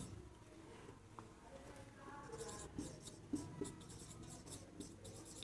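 A pen writing a definition by hand during an English grammar lesson, light close scratching strokes with short pauses, under a faint background hum.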